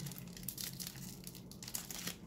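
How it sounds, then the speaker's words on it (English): A Japanese Pokemon card pack wrapper is torn and crinkled open by hand, with close, fitful plastic rustles and tearing sounds in quick irregular bursts and no voices. "I'm certain most of y'all watch for me to struggle opening up the packs"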